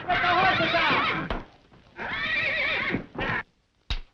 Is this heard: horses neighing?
yes